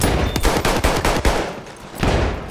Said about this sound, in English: Bit of pre-fire on that corner there